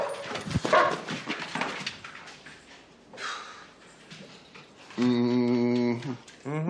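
A dog yelps and whimpers close by in a burst of sharp cries, then after a quieter stretch lets out a sustained whining howl, with a voice speaking briefly at the start.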